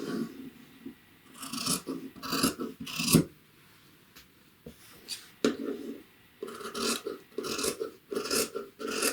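Scissors snip through fabric seam allowances on a two-piece collar with stand, trimming them down to a quarter inch; bursts of crisp cutting and rasping come in quick clusters, close and fairly loud, with short pauses between, and no talking.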